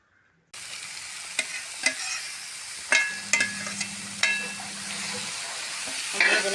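Chopped lemon fries in turmeric-tinged oil while a spoon stirs it, steady close sizzling punctuated by several sharp scraping clacks against the pan, with no one talking.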